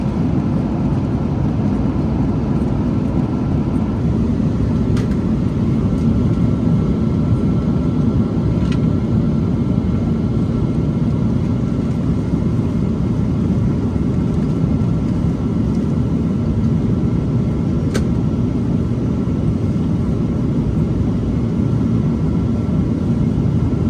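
Steady, loud cabin roar of a United Airlines airliner descending toward Milan over the Alps, a continuous low engine and airflow drone with faint brief clicks and no talk.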